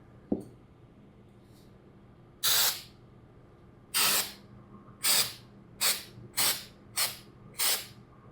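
Paint spray from an airbrush or spray can passing straight through a screen over a large HO scale model: a tap, then seven short hissing bursts of spray in quick succession, close and clear against a quiet room.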